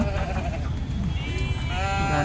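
Nellore breed sheep bleating, several wavering bleats from a flock close by, laid over constant crowd noise and low chatter of people at a market.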